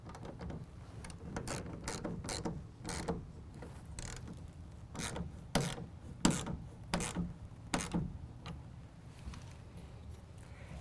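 A clamp on a Gator roll-up tonneau cover is tightened against the truck bed rail, giving close ratcheting clicks and creaking turns in uneven bursts, with a few louder clunks and then quieter handling.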